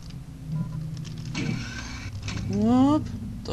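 Doom 2 megawad elevators grind and whir in a mechanical rush, with a rising, wavering electronic tone near the end. They play alone, without any talk over them.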